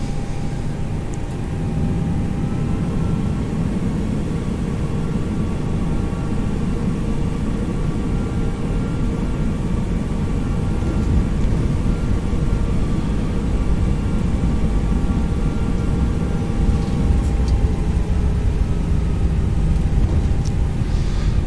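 Steady airliner engine roar from a flight simulator game as the plane taxis, a constant loud low rumble with a faint whine, running unbroken with no talk.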